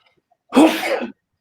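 A single loud sneeze bursts out close by after a moment of silence, lasting about half a second before cutting off.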